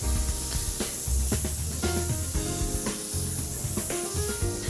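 Butter and a little oil sizzle in an already hot frying pan, a dense steady hiss with crackling pops. Softer scraping and clinks sound while the pan is stirred, and no one speaks.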